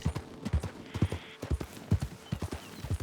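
Horse hooves clip-clopping in the Red Dead Redemption 2 video game, a steady close trotting rhythm of repeated thuds, loud and clear with no voices over it.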